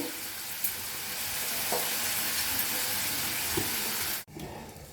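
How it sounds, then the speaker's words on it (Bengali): Bay leaves, two small dried chillies and cumin seeds sizzle in hot oil in a kadai for tempering, a loud continuous crackle with faint stirring clicks that cuts out abruptly near the end. "আমার তেলটা গরম হয়ে গেছে, এর মধ্যে আমি দুটো তেজপাতা, দুটো ছোটো শুকনো লঙ্কা, একটু জিরে দিলাম ফোড়নের জন্যে"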